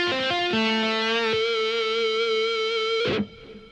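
Distorted electric guitar playing a tapped phrase, with quick tapped notes stepping down then a long sustained singing note with effects, cut off abruptly near the end.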